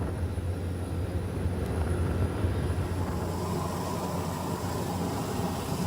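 A Caracal helicopter drones loudly nearby as it lands on a school field, its low rotor thrum and engine roar steady and continuous throughout, with no voices.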